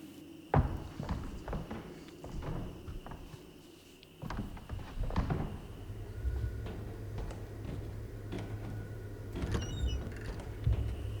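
Footsteps echo down a corridor in a UFO-themed video game, several irregular thuds and creaks over a low mechanical hum, with quieter room tone between steps.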